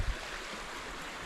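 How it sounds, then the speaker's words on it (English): Stream water rushing steadily past in a Welsh woodland bushcraft camp, a continuous broadband wash with a brief low thump at the start and no voices. "It's across the stream here."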